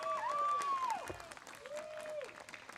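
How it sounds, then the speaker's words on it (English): Applause for bar and bat mitzvah students at a morning ceremony, a short, moderately loud round of clapping with whistle-like tonal sounds sweeping over it. "So I think we need to just start off with another round of applause."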